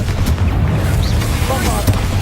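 A Confringo fire spell blasts in Hogwarts Legacy, a short, muffled booming burst with rumbling low-end weight, mixed with game ambience and voices.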